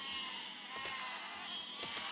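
Sheep in the physics building game Besiege bleat faintly over steady background game noise, with a couple of short bleats and thumps.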